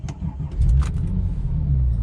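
A Porsche 911 Turbo 997 engine starts up with a brief cranking burst, then catches and settles into a steady, loud idle close by. No voices are heard.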